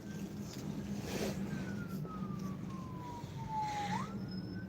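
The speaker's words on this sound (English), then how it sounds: "Sounds like an ambulance going down the highway." An ambulance siren on a highway, a faint distant wail sliding slowly down in pitch before rising again, set against a low steady background rumble.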